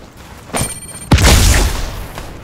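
Video game gunfire: a short crack, then a heavier booming blast with a rumbling low tail that fades over about a second, close and loud, with faint background noise between.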